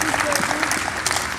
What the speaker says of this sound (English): give all of our speakers a round of applause